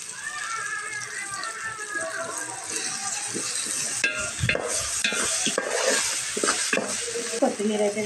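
Ginger garlic paste frying in a pot for egg biryani, steady close sizzling with spatula stirring and clinks of the pan, alongside faint background voices.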